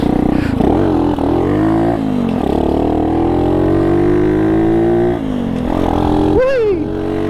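A Honda Super Cub (deluxe frame) fitted with a swapped 125cc engine hums up close, its pitch rising and falling as it shifts down through the gears, ending in a sharp rev.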